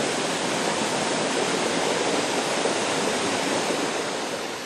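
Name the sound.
rushing forest river waterfall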